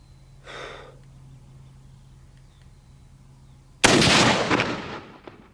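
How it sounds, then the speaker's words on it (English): A soft breath or snort early on, quiet stillness, then a single sharp, loud .243 rifle shot cracks nearby and rolls off into a fading echo. "I just want to check my 243, letting Chris stick his fingers in his ears"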